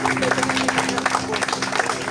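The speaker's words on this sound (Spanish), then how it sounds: "Denle un aplauso al Señor." A church congregation claps loudly and continuously in a short burst of applause for the Lord, with crowd voices mixed in.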